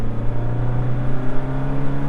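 A Ford Capri 24 Hours of Lemons race car at full throttle, its engine drone loud and close from inside the cabin, a steady rising hum with no talk.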